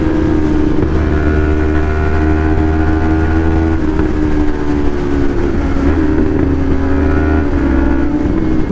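A Yamaha MT03 motorcycle engine drones at a steady, loud pitch while being ridden on a six-lane road between Davao and Koronadal City, a continuous close rumble with slight shifts in tone throughout.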